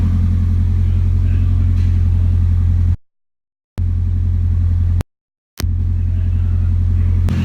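A Nissan S13 240SX engine idles steadily just after a cold start, giving a loud, continuous low rumble that cuts out twice in brief silent gaps.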